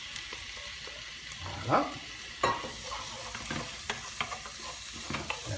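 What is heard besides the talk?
squid sizzling in pan with garlic and onion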